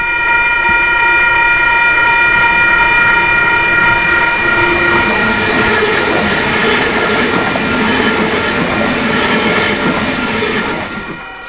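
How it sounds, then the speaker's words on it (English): A Sydney-bound passenger train rolls loudly past close by while arriving at Wondabyne station, Australia, steady rumbling with wheel squeal and a sustained high tonal whine, fading slightly at the end. "The first train to arrive was the Sydney-bound acess."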